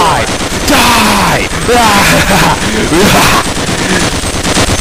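Rapid weapon fire on a video game weapons range, bursts of shots rattling in clusters under a man's speech and a shouted in-game voice line.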